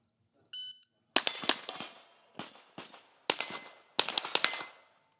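At an outdoor steel shooting competition, a start-timer beep is followed by sharp, close gunshots fired in quick clusters of two to four, each crack ringing briefly off the steel targets.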